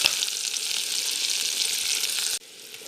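Onions fry in hot oil for a fish curry, a loud, close, continuous sizzle that cuts off abruptly near the end and leaves a faint quiet hiss.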